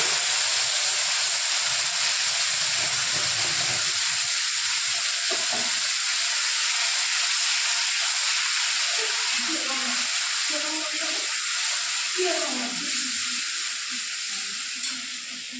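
Grated tomato hitting hot oil with fried cumin seeds and spices, giving a loud steady sizzle and hiss close by, with stirring scrapes and a quiet voice partway through.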